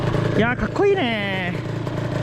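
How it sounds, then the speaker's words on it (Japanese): A 1987 Honda NSR50 motorcycle engine idles steadily as it warms up, a continuous low drone running beneath a man's close, brief speech. "エンジンかかりましたね。 少し暖気してみたいと思います。"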